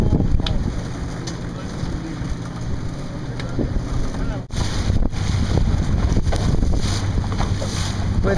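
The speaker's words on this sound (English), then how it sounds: "Winds maybe 10 knots right now" Steady wind rushing over the microphone aboard a turboed 40-foot ProSail40 catamaran in about 10 knots of breeze, a continuous loud roar with water and hull noise underneath.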